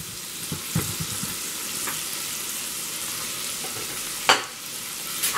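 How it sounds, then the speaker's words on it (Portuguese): Garlic fries in a pan, a steady broadband sizzle with a few sharp crackles and scrapes of stirring, close and moderately loud, with no talking. "Vou colocar já o alho."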